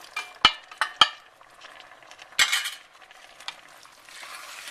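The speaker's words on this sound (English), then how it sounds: "I'm going to give all of this a good stir." White chicken chili with frozen corn and drained cannellini beans is stirred in a pot, giving a few sharp spoon scrapes and knocks against the metal, then softer shuffling and a faint simmering hiss.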